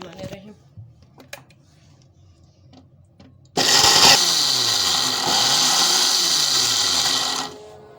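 A kitchen mixer grinder starts abruptly and runs loudly and steadily for several seconds, grinding something into powder, then winds down; a few clicks and handling noises come before it.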